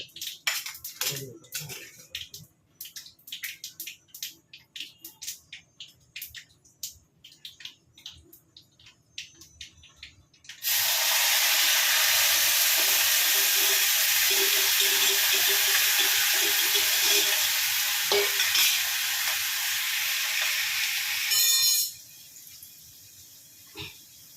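Mustard seeds and curry leaves hit hot oil with a sudden loud, sustained sizzle and crackle lasting about ten seconds, then cut off abruptly; quieter kitchen clatter and movement come before it.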